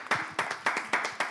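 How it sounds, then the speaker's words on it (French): An audience at a French televised contestant show claps in short, evenly spaced bursts, about five quick rounds of hand claps close by with brief gaps between them. "Est-ce qu'on peut applaudir pour vous-même"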